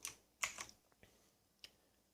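Keys on an AZIO MGK1 RGB mechanical keyboard clatter in a short burst of sharp clicks, followed by a few scattered lighter taps, close and clear with no voices.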